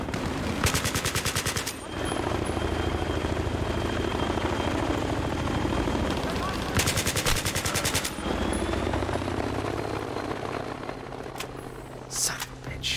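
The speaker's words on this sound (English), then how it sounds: "It's an Osprey." A V-22 Osprey tiltrotor aircraft in the video game Battlefield 3 roars with heavy rotor thrum throughout, while bursts of rapid machine-gun fire crackle in loud stretches on top.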